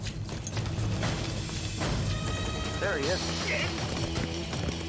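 Horse hooves clip-clopping on a Mantracker chase, a steady near rhythm of hoofbeats under a voice, with a faint whinny-like tone partway through.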